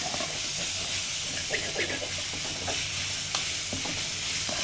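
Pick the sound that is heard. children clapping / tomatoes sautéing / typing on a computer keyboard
tomatoes sautéing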